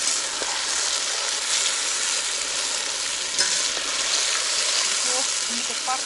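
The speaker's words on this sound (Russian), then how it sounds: "Жарится моментально, понял?" Bream frying in a pan in a village summer kitchen gives a loud, steady, crackling sizzle throughout, with occasional sharper pops and faint stirring.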